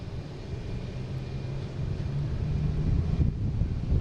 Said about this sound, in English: All right, we got JetBlue coming in